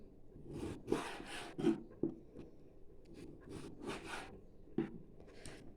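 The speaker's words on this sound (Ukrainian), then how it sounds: "нарізаємо м'ясо шматками" Knife cutting meat into pieces on a board, with soft scraping strokes and a few sharp taps of the blade, close by and irregular.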